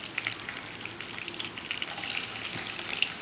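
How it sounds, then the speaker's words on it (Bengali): Chopped onions frying in hot oil for a papaya dal: a steady, close, hissing sizzle that runs unbroken throughout, with no voices. "এখন এর মাঝে আমি প্রথমে পেঁয়াজ কুচিটা দিয়ে দিব।"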